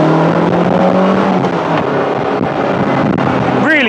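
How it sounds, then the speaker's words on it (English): Caterham Seven 420R with a 2-litre naturally aspirated four-cylinder Ford Duratec engine, its exhaust roaring loud and close while accelerating on the road, with wind buffeting over the engine note. "have a listen to the exhaust"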